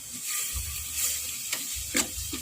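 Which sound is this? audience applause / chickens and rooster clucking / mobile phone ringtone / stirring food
stirring food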